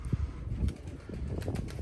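Tempo breed pigeon landing, soft low cooing and a few faint wing flutters, quiet and close with light background noise.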